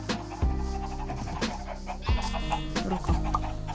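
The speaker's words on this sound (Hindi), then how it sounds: "ओए वो मुर्गा बाहर कैसे आया?" Minecraft PE chickens clucking and squawking in repeated short bursts, several calls spaced across a few seconds, fairly close and clear with no talking.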